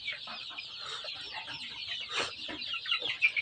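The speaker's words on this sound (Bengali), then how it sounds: "এটা আমার দেশি মুরগি" Native deshi chickens clucking nearby in a continuous busy chorus of short cackles, with one louder call near the end.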